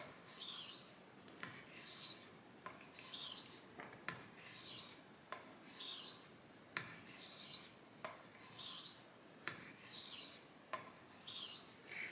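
A Bengall frameback straight razor is honed on a coticule stone with slurry in about nine evenly paced strokes, each a soft wet rasp ending in a slight tick, close and quiet.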